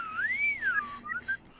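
A person whistles a clear, close melodic line, one long sliding phrase that rises and falls, followed by a few short higher notes over a faint low hum.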